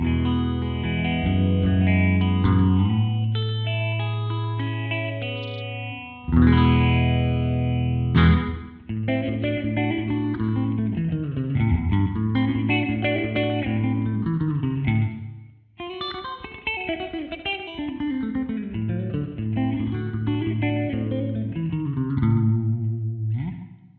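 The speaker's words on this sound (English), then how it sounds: "purple is a full, bassy, and chewy phaser sound" A distorted electric guitar plays chords through a Death by Audio pedal's deep, bassy phaser effect, its sweeping whoosh swirling over the notes with brief pauses between phrases.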